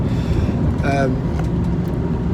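Inside a car carrying a family on the road from Laos toward the Thai border, a loud, steady engine and road rumble fills the cabin, with a brief passing tone partway through.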